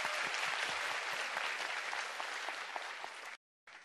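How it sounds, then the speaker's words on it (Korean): Studio audience applauding on a Korean radio music show, a steady dense clapping that fills the room for over three seconds and then cuts off abruptly. "어머니에게도 큰 박수 한번 부탁드립니다."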